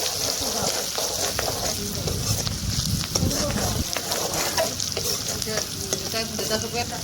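Onions and turmeric frying in mustard oil sizzle loudly and steadily up close, with repeated scraping and knocking from a spoon stirring the pan, and a person talking over it.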